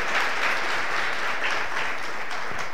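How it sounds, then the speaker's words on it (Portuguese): A church congregation applauds steadily throughout, a dense wash of clapping that stays even in loudness from start to finish. "Você pode aplaudir o Senhor."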